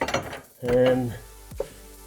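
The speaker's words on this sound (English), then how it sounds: "All I'll do is just take that lock nut back up again." Lock nut on a newly fitted track rod end of a Honda Civic EP3 being tightened by hand, a few close metallic ratcheting and turning clicks over about two seconds.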